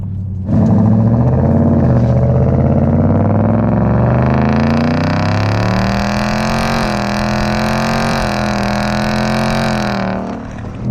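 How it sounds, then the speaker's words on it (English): A 2018 Mustang GT V8 with a Flowmaster Outlaw stainless steel axle-back exhaust revs up and holds a deep, growling roar close by, then cuts off sharply. "It's a loud, aggressive exhaust for your 2018 Mustang."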